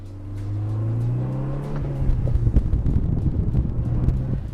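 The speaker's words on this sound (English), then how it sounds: "this is the first time that it has a turbocharged engine" The 2-liter turbocharged engine of a Volkswagen Golf R, the third all-wheel-drive Golf sold in America, hums steadily and then rises as the car accelerates, with gusty wind noise against the microphone.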